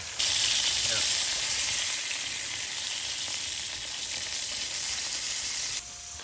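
Brats frying outdoors on the ice in extreme cold, a loud, dense, continuous sizzle held close throughout, with faint voices underneath.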